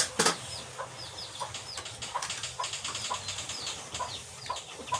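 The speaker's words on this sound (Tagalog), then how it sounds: "Mga manok ni Bunso naparami." Backyard chickens cluck and call repeatedly, short scattered bursts at moderate distance over faint outdoor background.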